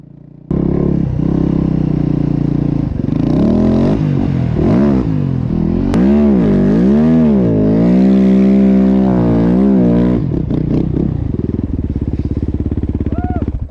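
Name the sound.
snow bike engine riding straight up a steep slope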